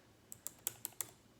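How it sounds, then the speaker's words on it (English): Five crisp key clicks from typing on a computer keyboard, evenly spaced and close, alone in a quiet room. "I can't type and talk at the same time."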